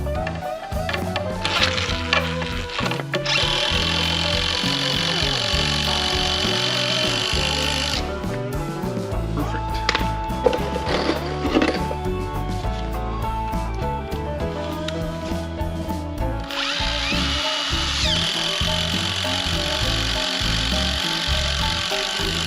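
Power drill driving screws through the bottom of a post-frame wood wall frame to close a gap between studs, a steady close motor whine with rising and falling pitch across several screws, continuous and fairly loud.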